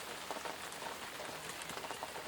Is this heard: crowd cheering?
no